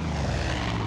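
Engine drone of a bomb-dropping biplane in Far Cry 5, a steady, loud propeller roar with no breaks, heard alone for a brief moment.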